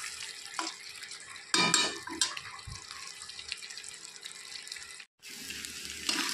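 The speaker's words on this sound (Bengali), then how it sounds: "ঢাকনাটা উঠিয়ে নিয়েছি, আবারও একটু নেড়ে চেড়ে দেব।" Meat cooked without oil is stirred in a pan at close range, with spatula scrapes and clinks over a soft watery hiss, then a brief pause before the stirring resumes.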